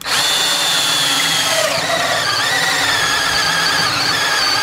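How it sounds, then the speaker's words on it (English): A cordless drill bores through a wooden board for a cargo trailer cook table, a loud continuous whine with squealing high tones that shift in pitch as the bit bites; no talk. "We'll drill the other side too."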